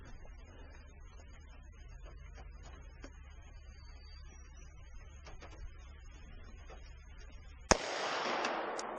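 A single sharp shot from a Glock 40 MOS 10mm pistol fired on an outdoor range cracks out after a stretch of quiet background, followed by a brief noisy rush of sound.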